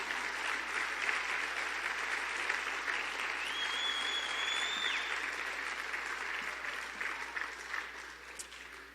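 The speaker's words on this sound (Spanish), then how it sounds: "Dale un fuerte aplauso al Señor." Sustained applause from a church congregation, a dense, steady wash of many hands clapping that holds for several seconds and tapers slightly toward the end.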